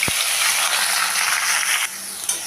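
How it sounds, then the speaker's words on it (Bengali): Chopped onion hits hot oil with a steady, bright sizzle and crackle that runs throughout at close range, easing slightly near the end, with no talking. "তেলটা গরম করে নিলাম দিয়ে দিলাম পেঁয়াজ কুচি"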